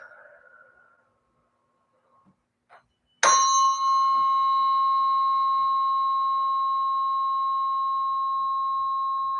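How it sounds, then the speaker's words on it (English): A 174 hertz tuning fork is struck once and rings with a clear, sustained pure tone that decays very slowly, after a few faint soft sounds in near silence. "Allowing it time to match the stronger resonance of this 174 hertz, this tuning fork."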